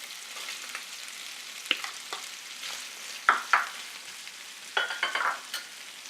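Chicken and onion fry in a pan with a steady low sizzle, broken by several sharper crackles and utensil scrapes, close and without talk.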